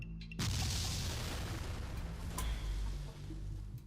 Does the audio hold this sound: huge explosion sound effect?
yes